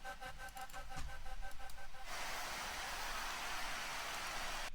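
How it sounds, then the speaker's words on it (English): A dense, hissing wash of crowd noise like white noise, layered into a dark liquid drum and bass track, after a brief stretch of rhythmic tonal music that cuts off partway. "I added this crowd, which just adds some, almost some like white noise to it"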